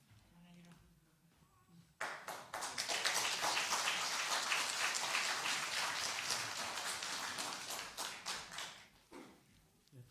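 A church congregation applauds during an elder ordination service, a dense, warm burst of many hands clapping that rises suddenly, holds for about seven seconds, then thins out.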